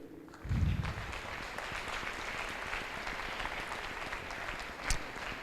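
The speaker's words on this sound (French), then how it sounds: "je voudrais qu'on remercie encore une fois par un magnifique applaudissement chaleureux et nombreux pour les prêtres qui nous ont aidés" A church audience gives warm, sustained applause for the priests, beginning after a low thump and continuing as a steady, moderately distant patter, with a brief sharper clap near the end.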